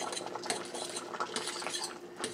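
Spaghetti noodles stirred in a pot of water with a utensil, giving steady scraping and clinking against the metal sides, continuous and close, with no talking.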